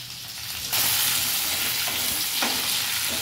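Drumstick pods with turmeric, salt and spices being stirred in hot oil over a low flame, a steady bright sizzle with scraping stir strokes, close and continuous with no talking.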